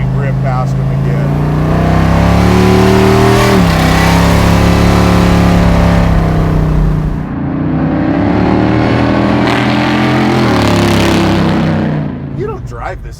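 A supercharged GMC off-road truck revs hard and drives past, its engine a loud, close, rising and falling roar with a clear pitch sweep, and a voice briefly speaks under it.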